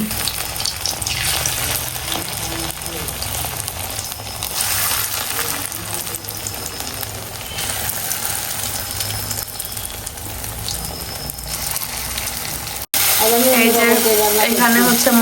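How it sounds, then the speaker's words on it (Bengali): Chickpeas cooking in a pan of spices, a steady hissing sizzle running loud and continuous throughout, with a voice speaking over it and a brief cut near the end before a louder burst of frying. "মশলা কষানো হয়ে গেছে ছোলা রান্না করা হচ্ছে"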